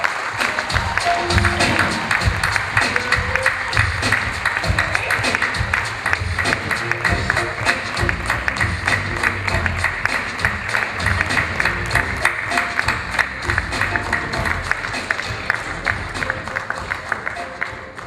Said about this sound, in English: As more you will clap, you will be fast to receive the award.